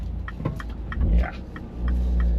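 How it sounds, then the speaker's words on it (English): A car being driven toward a roundabout, with a repeated short high squeak recurring at a rough, regular rhythm over a low engine and road rumble. "That's the squeak. All the time."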